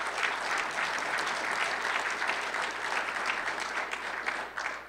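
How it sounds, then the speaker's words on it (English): Audience applause at a state lunch speech event, a steady, full round of clapping from many hands that holds evenly and fades slightly near the end. "Let's give them another great round of applause for all that they're doing."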